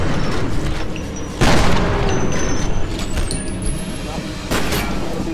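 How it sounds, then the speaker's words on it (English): A grenade explodes during a firefight in the shooter game F.E.A.R.: Perseus Mandate: loud booms and blasts burst repeatedly among gunfire and clanking effects, with a strong thump near the start and another near the end. "Look out, grenade!"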